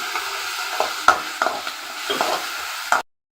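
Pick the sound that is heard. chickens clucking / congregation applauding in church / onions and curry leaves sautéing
onions and curry leaves sautéing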